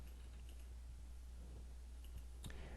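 Sparse, faint clicks of someone typing on a computer keyboard, a few light keystrokes spread over a quiet, steady background hum, with no talking.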